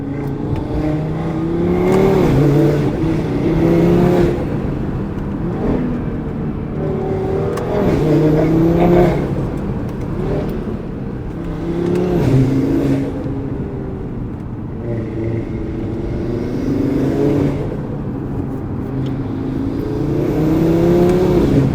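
Tuned 500 hp Audi RS3 accelerating hard on a mountain road, engine revving up and down in repeated loud pulls with gear changes, heard from inside the car without talk.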